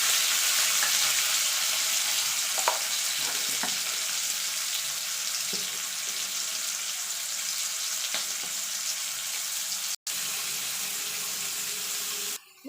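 Ginger, green chili and tomato stir-fry in hot oil, giving a steady broadband sizzle with a few soft stirring knocks, fairly close and unbroken apart from a brief dropout near the end.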